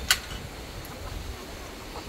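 White hens cluck faintly in the background amid wind rumble, with a sharp brief squawk near the start.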